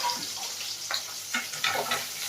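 Soft sizzle of shallots frying in oil with a few stirring scrapes, fairly quiet and close, no talking.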